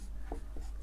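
Pen or chalk strokes writing out an equation by hand during a class 10 maths lesson, two brief scratchy marks close by against a steady low hum, with no talking.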